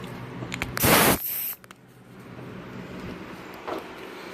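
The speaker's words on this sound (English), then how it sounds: "And it's an ancient blowgun, but it still works great. So plug it into our air hose." A compressed-air blowgun on an air hose, used while cleaning parts for home powder coating, fires one loud, sharp hissing blast lasting about half a second, then a softer short puff and a faint later burst over low room noise.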